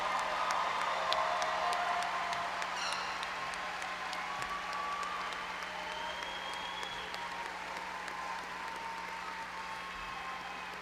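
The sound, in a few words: applause for graduating students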